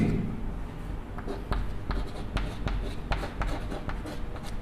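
Pen writing out a chemistry solution on paper or a board, producing steady close scratching strokes with small taps, under faint room noise and no clear talk.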